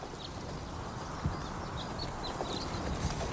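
Horse hooves clip-clop in a steady walking rhythm, a pack horse on a western gold-rush trail, moderately distant and soft beneath a hiss of outdoor ambience with a few faint bird chirps.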